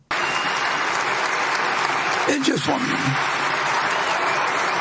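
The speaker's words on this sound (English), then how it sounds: "there's a lot of people clapping" A large audience at the Berkshire Hathaway annual meeting applauds the chairman with steady, dense clapping throughout, while a voice briefly speaks over it.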